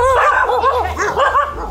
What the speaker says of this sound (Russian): а и тут вот народ уже отдыхает с собаками